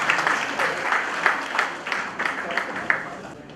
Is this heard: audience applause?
yes